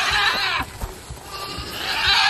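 Goats bleat loudly and close by in a field of high grass, with a long wavering bleat at the start and another toward the end, and softer animal rustling in between.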